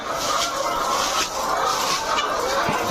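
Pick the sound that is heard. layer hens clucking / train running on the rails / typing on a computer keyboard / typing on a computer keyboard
layer hens clucking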